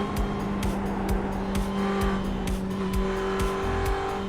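Race car engine droning steadily in a sim racing video game, with repeated tire squeals and skids over the continuous motor noise, loud and close throughout.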